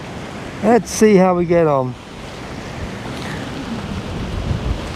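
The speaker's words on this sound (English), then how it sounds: "The wind is really getting up." Strong wind and surf from Storm Isha on open water, a steady rushing roar that continues after a brief spoken phrase at the start.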